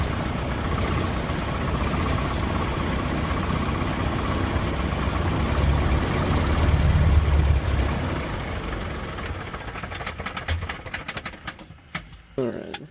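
A light aircraft piston engine, a 1950s Piper Tri-Pacer that will not stay running, runs with a steady, loud rumble that swells midway, then sputters and cuts out near the end.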